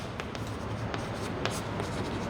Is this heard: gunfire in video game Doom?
no